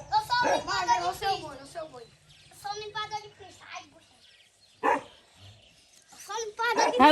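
A female dog barks in short bursts near children talking and playing on a vaquejada track at a park, the barks mixed in among the kids' chatter.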